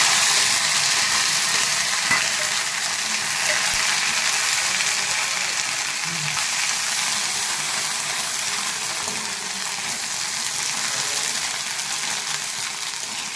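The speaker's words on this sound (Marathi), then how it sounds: "आता यामध्ये बारीक केलेली हिरवी मिरची घालून घेऊया।" Finely chopped green chilies fry in hot oil in a pan for sabudana khichdi, a loud, close, continuous hiss and crackle that holds steady throughout with no talking.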